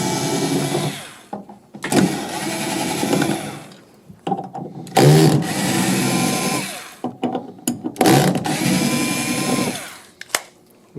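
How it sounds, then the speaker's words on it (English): A powered screwdriver backs out the four coupler screws during a Delta motor change on an RX3210 unit. It whirs in several separate bursts with quiet pauses between them. "Now the first thing we have to do is take the coupler out. That's 4 screws. So we use a screwdriver."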